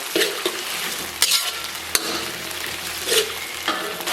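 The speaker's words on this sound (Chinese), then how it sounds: "咱们来点豆瓣酱，来勺辣椒酱，简单给它煸炒一下，咱们给它煸炒出红油。" Doubanjiang and a spoonful of chili sauce stir-fried with garlic in a hot wok, a steady close sizzle broken by several sharp scrapes and clanks of stirring.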